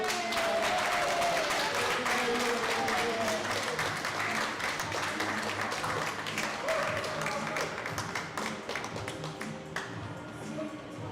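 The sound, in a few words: audience applause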